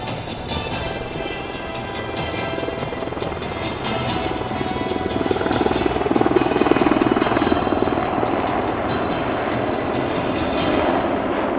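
Loud, close HH-60W military helicopter rotor chopping with a heavy engine whine at an air show, continuous throughout and swelling slightly in the middle.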